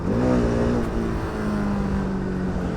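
A car engine revs continuously while driving, its steady droning tone rising and holding close and loud throughout, with no talk over it.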